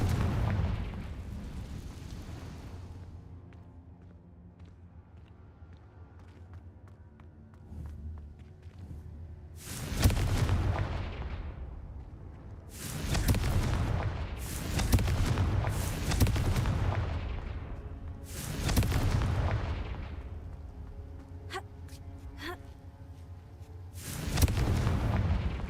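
Confringo fire spell blasts in the Hogwarts Legacy video game, with several heavy booming explosions in irregular succession over a low rumbling game ambience, loud and close, with no talk heard.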